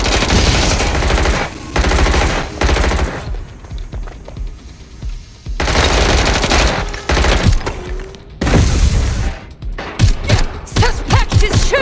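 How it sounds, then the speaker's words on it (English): Rapid bursts of automatic gunfire in Watch Dogs Legion, loud close volleys broken by short pauses, with a final stretch of sharper separate shots. "Suspect is shooting! Taking fire!"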